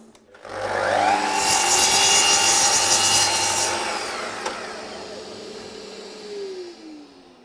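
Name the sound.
sanding cedar wood with sandpaper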